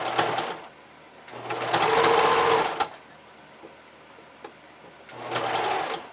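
Sewing machine stitching elastic, set in slightly, onto the edge of a woven ruffled fabric, in three distinct bursts of loud whirring stitching with quiet gaps between.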